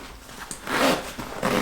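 A zipper on a Porter Yoshida Tanker daypack is drawn closed, a short rasping pull rising to a louder sweep at close range, with no talk.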